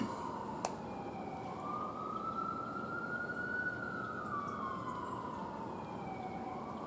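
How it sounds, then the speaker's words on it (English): An ambulance siren wails through a New York street, a rising and falling tone that swells as it passes at moderate distance over low traffic rumble. "I'm going to wait for this ambulance to pass."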